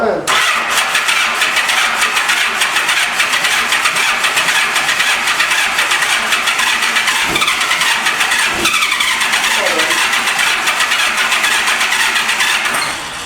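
A 1985 Honda Gold Wing 1200cc motorcycle engine catches and keeps running loud and close after sitting for years, its steady roar filling the whole stretch with a couple of sharp mechanical knocks midway.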